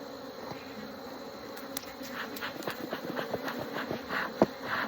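Honey bees buzzing around an open beehive during an early autumn inspection, a steady, close hum of many insects with occasional louder passes of individual bees near the ear.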